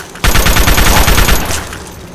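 Assault rifle in the Fallout 3 video game firing a loud, rapid burst of automatic gunfire, about a second and a half of fast repeated shots that cut off abruptly and fade out.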